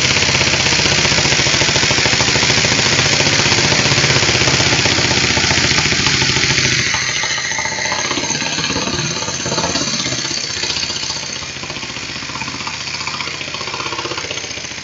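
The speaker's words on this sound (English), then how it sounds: "Or let the air compressor catch up." A loud, steady air compressor motor drones with a rapid mechanical chatter, running continuously and easing slightly in intensity partway through.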